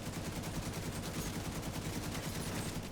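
An enemy turret in The Division 2 fires in a rapid, steady automatic burst, a continuous rattling stream of shots at moderate loudness with no break.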